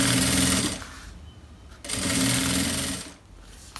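A sewing machine stitches a seam on a shoe bag, running in two loud, close bursts separated by a short pause.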